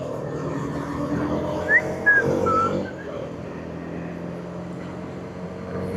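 A vehicle's engine drones steadily as a motorbike crosses a flyover on a rainy day, with wind and traffic noise behind it. A brief whistle-like tone stands out near the middle. No one speaks.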